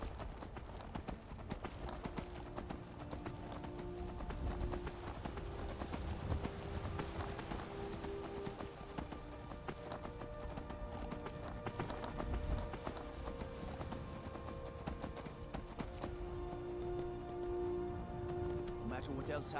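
Horse hooves clip-clop steadily while riding in Skyrim, a continuous rhythmic clatter mixed with game music and ambience, with someone talking over it throughout.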